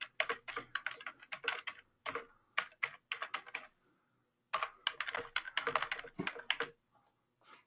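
Fast bursts of typing on a computer keyboard while entering SQL Server login details during a software install, close and clear, with a brief pause midway and no talking.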